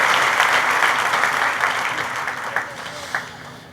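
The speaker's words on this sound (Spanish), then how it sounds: "aplausos" Applause from a church congregation during a Sunday communion service fills the space as dense, steady clapping that gradually thins out, with a few louder claps near the end.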